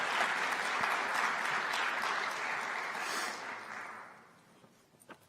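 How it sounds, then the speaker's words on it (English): A room full of people at a CubeSat developers workshop claps steadily after a presentation, the applause fading gradually to a few scattered claps. "Round of applause for Sanj."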